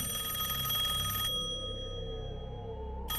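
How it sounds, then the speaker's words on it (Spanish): A telephone rings with a steady, bright electronic tone, continuing for a few seconds before cutting off, fairly clear and close. "cuando sonó el teléfono"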